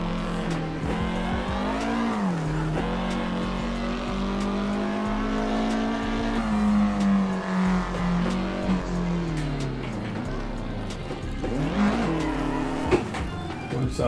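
A Doğan SL driven recklessly in Assetto Corsa: a continuous, loud engine drone that rises and falls as the car revs and shifts, with tire squeal and skidding mixed in, and no talk.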